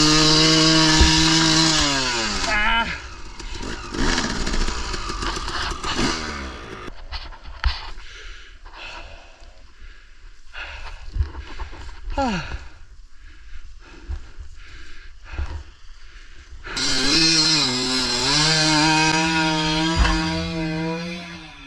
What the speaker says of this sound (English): we're gonna warm up the bikes and do some more climbs.